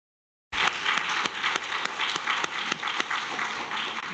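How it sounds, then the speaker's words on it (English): Audience applause for a panelist at a green skills and just transition investment event, starting abruptly after a brief silence and holding steady as a dense wash of many hands clapping, fairly close and without talk. "let's give this panelist another round of applause"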